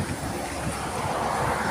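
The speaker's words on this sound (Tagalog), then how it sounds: "Napakalamig dito. Mahangin." Steady wind rushing and buffeting the microphone, loud and continuous throughout, with a low watery roar underneath.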